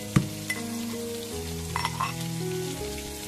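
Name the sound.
garlic and dried chillies frying in mustard oil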